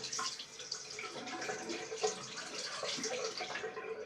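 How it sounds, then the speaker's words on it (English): Tap water runs steadily over a straight razor blade being rinsed, a continuous close hiss and splash of flowing water with slight shifts in the stream throughout. "I prefer just to run it under the tap, guys."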